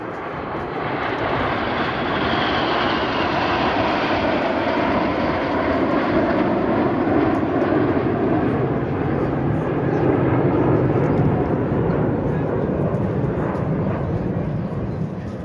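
Display team aircraft fly past in Swan formation trailing smoke at an air show, a loud continuous engine roar that swells and holds, with a commentator speaking over it.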